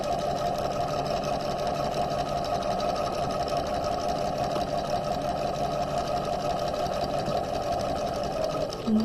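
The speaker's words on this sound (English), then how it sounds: "back stitch, sew along the sleeve seam" Sewing machine running a steady seam joining a raglan sleeve to a bodice, a continuous close mechanical hum with fast, even needle rhythm throughout, ending with a small click.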